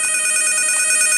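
An old telephone rings loud and unbroken inside the horror video game Endless Nightmare, a bright, steady electronic trill with no pauses.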